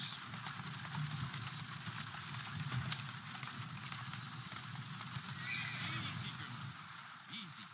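A horse in the Assassin's Creed Syndicate video game whinnies and snorts over a steady bed of clopping hooves and ambient game noise, fairly quiet and continuous throughout.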